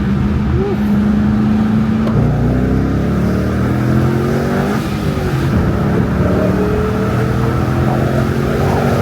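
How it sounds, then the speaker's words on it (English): A supercharged C5 Corvette Z06 engine revs up and down through rev-matched gear changes, loud and close from inside the car, with a steady road roar underneath. "Rev match. Ooh, you hear that? Nice rev match."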